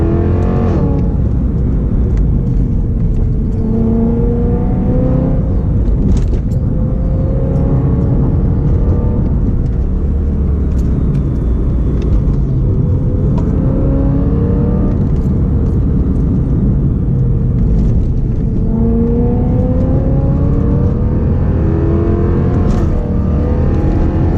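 A modified 2008 BMW M3 with coilover suspension being driven, a loud, steady engine drone with tones that rise and fall as the car speeds up and shifts, plus occasional sharp thumps from the stiff suspension.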